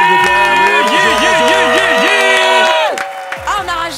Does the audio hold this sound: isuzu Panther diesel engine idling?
no